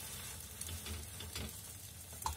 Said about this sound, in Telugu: నూనె వేయలేదు కదా, ఎండిపోయినట్టుగా కాలుతుంది